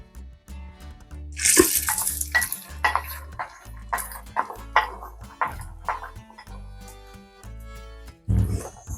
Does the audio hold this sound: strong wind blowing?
no